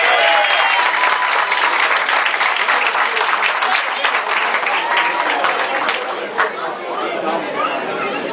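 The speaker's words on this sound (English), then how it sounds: "So give a round of applause for Jacob Rodriguez" Sustained applause and cheering from an awards-banquet crowd honoring a football player, dense clapping with chatter mixed in, steady and loud throughout, easing slightly near the end.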